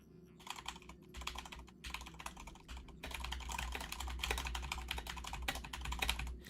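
Fast, steady typing on a clicky computer keyboard with the microphone very near, the keystrokes dense and crisp, growing heavier and more forceful in the second half.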